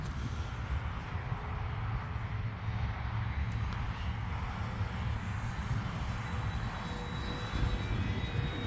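An FMS P-47 Razorback RC model airplane flies overhead, its electric motor giving a steady, faint droning whine over a constant rumble of wind and outdoor noise throughout.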